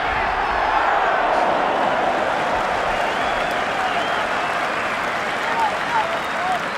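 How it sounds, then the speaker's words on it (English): A big rugby crowd at Athletic Park in New Zealand roars and cheers steadily throughout a 1992 All Blacks versus World XV test match, a dense sustained wash of voices and clapping with no break. "the big crowd at Anthony Park's loving this"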